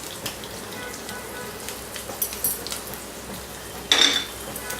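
Halloumi frying in a pan gives a steady close sizzle and crackle, with light clinks of a utensil against the pan and a brief louder spatter near the end.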